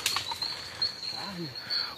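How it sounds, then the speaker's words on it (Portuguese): Small birds flutter and flap their wings along a forest trail in Petrópolis, with a faint steady high call and a few soft chirps in the background, fairly quiet and close. "Muito passarinho, pessoal."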